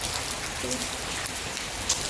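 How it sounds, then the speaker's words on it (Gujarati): Heavy daytime rain pours down in a dense, steady hiss with no letup, close and fairly loud throughout. "વરસાદ જ એટલો પડે છે"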